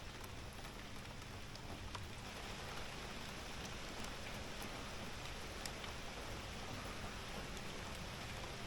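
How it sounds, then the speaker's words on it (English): Steady rain falls outside a tiny home, a continuous even hiss that holds at a moderate level throughout, with scattered drop ticks and no voices. "It's raining."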